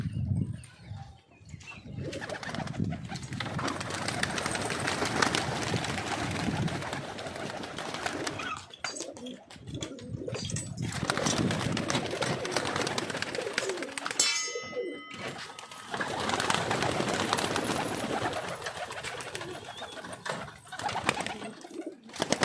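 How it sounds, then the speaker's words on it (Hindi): Around fifty pigeons in a loft set-up make a dense, continuous murmur of cooing and rustling wings, close and fairly soft, with brief clangs and a short wing flutter partway through. "ये 50 कबूतरों का सेटअप है"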